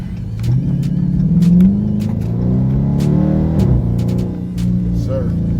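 A car engine revving while driving, with rising and falling engine tones through gear changes, close and loud, plus a few sharp clicks over the drone.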